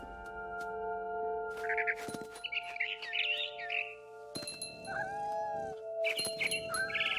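A cat in the video game What Remains of Edith Finch gives a few drawn-out meows and yowls against a steady tonal ambient backdrop, with chirpy bird calls between them; no one speaks.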